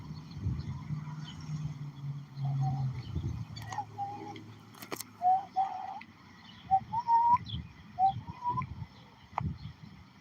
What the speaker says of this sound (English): There's your turtle dove